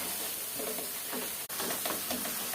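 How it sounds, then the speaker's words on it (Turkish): Semolina roasting in butter in a pan for creamy Turkish irmik helva, a steady sizzle and hiss with soft scraping stirs, close and continuous, briefly cut by a short dropout. "Hemen kavuralım. Devam ediyoruz kavurmaya."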